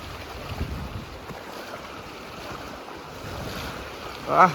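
Floodwater of the Shilaboti river at Simlapal rushes past in a steady broad roar, mixed with wind buffeting the microphone and a brief louder gust at the end.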